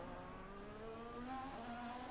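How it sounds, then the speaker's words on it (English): Race cars from the F1 24 video game at the Spa circuit roar past in a short, steady engine drone with rising pitch, moderately loud and alone. "Because like, I'm hearing cars coming past,"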